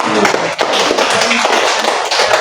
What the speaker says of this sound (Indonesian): Beri aplaus untuk kelompok kondensasi.